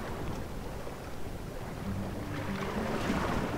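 Ships set sail at sea in the strategy game Rome: Total War, with a continuous wash of ocean waves and wind rushing at moderate level, no talking over it.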